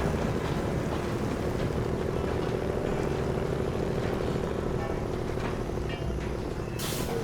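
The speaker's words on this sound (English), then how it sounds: "As long as I don't stall the engine." A Kenworth truck engine in a video game drones steadily at low revs, a constant heavy rumble with a faint tonal hum and no speech.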